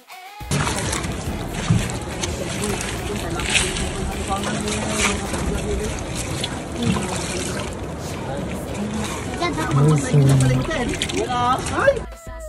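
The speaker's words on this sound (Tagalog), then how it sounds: "Yan po, nakasakay na po tayo sa bangka." A boat ride on the Magat River, water sloshing and trickling against the hull with a steady motor-like drone, while people talk and call out loudly throughout.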